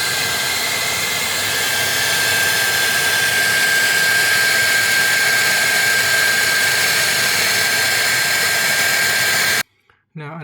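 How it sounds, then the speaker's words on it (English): A hair dryer blows warm air into a freezer to melt ice around a stuck ice tray, a loud steady whining roar with a high tonal whistle that runs unbroken for nearly ten seconds before cutting off abruptly. "The other option is to use your hair dryer and blow warm air in here."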